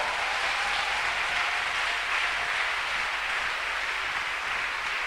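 Church congregation applauding in praise during a sermon, a steady dense wash of clapping from many hands that holds throughout.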